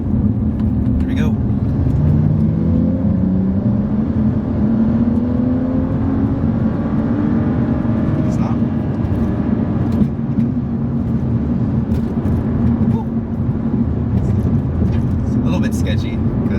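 A BMW 335i F30 with the N55 engine accelerates in fourth gear, a steady rising engine drone heard from inside the cabin, continuous and fairly loud.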